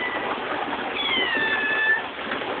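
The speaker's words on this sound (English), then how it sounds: "What are you doing, cat?" A house cat meows in a thin, rising-then-falling call lasting about a second, close by over a steady hiss of background noise.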